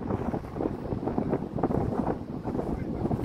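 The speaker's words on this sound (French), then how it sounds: "Et là, il y a du vent." Night wind at Hendaye on the French Basque coast near a campsite, a loud rough gusting roar buffeting the microphone throughout, with someone talking underneath.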